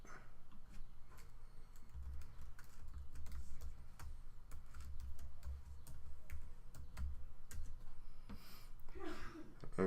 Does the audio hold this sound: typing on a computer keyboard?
yes